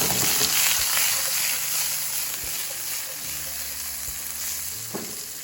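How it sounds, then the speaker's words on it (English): Peppers sauté in a pan for Jamaican-style vegan rasta pasta, giving a steady, close sizzle of frying with a few soft utensil taps, with no talking over it. "We're just going to let this saute off"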